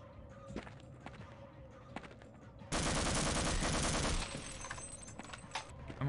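Automatic gunfire from a weapon in the video game Half-Life, a loud sustained burst of rapid shots lasting about a second and a half, preceded by scattered game noises.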